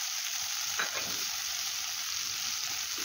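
Fried potatoes, peas and spices sizzling in a pan for pulao, a constant bright hiss of hot oil with a few soft stirring scrapes near the start, no talking.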